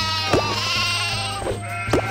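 Sheep bleating in the Toy Story Mania video game, three clear close bleats spaced across the moment over a steady musical game backdrop.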